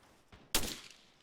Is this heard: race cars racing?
no